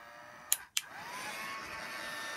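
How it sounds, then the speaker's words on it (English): An embossing heat gun runs with a steady, fairly loud blowing hiss that holds throughout, broken near the start by two sharp clicks and a brief dip as it is switched and settles. "the best thing to do is put your heat tool on first"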